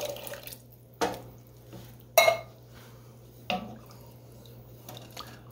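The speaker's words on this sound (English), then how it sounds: "Now I've got a can of garbanzo beans, the chichi beans. I'm gonna put that in here," Canned garbanzo beans and their liquid pour into a soup pot of Italian tomato and rice soup, with a few close metallic clanks and wet splashes spaced over several seconds.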